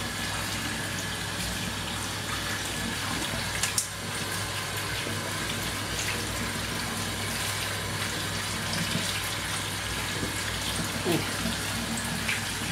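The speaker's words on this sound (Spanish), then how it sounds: "Vamos a ponerlo a lavar, a escurrir y a enjuagarlo con agua fría." Cold tap water runs in a steady, even rush while rinsing cooked noodles (tallarines) for a curry noodle dish in a kitchen sink, holding at moderate loudness without breaks.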